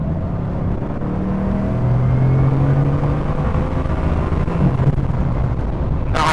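A 2021 Bugatti Chiron Sport accelerates hard, its engine roaring loud and close in a steady, rising drone with a short burst of noise right at the end.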